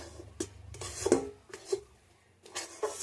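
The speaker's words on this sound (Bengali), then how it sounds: "এইভাবে নেড়ে নেড়ে একটা সুন্দর ডো তৈরি করে নেব।" Semolina rasgulla dough being worked in a pan, with soft rubbing and scraping strokes and a few light metallic knocks coming in irregular bursts. Quiet and close, with no voices.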